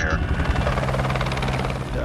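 A film-crew helicopter ferrying four or five passengers at a time on a Quantum of Solace location shoot, its loud steady rotor and engine drone filling the whole stretch without a break.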